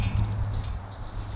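Hooves of an Icelandic horse clopping as a mare is led in among other mares, a short close burst of uneven thuds with no talk.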